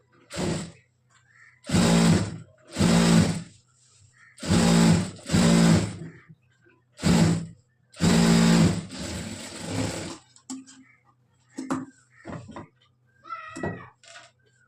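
A sewing machine stitching a coat runs in loud bursts of rapid mechanical whirring, several short runs separated by pauses, followed by softer handling clicks and faint rustles near the end.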